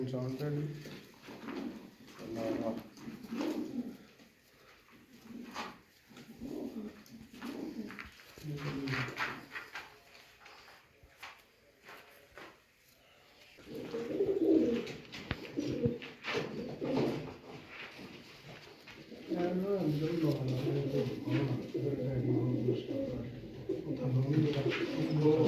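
Mian Nazir bloodline pigeons coo in low, repeated throbbing calls close by, heard in bursts with someone talking over and between them.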